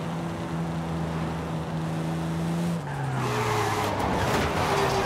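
Car drifting sideways in Forza Horizon 5 during a tandem run, a steady loud engine drone with continuous tire squeal, pitch dropping and shifting midway as the slide changes.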